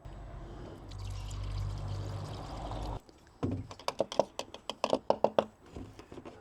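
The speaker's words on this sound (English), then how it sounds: "let's top that up with a bit of coolant." Coolant poured through a funnel into a BMW X5 expansion tank, a steady gurgling pour for a few seconds followed by clattering taps and small knocks as the funnel and bottle are handled.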